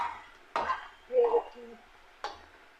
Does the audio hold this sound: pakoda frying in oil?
yes